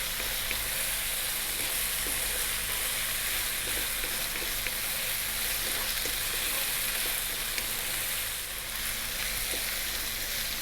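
Sliced onions, a cup's worth, fry on high heat with garlic in a pan for a Chinese stir-fry, giving a steady, dense sizzle that holds loud and close throughout with faint stirring clicks and no talking.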